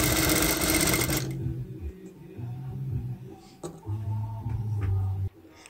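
A sewing machine stitches a dress in loud, close bursts of fast mechanical whirring, starting and stopping several times, with short pauses between runs.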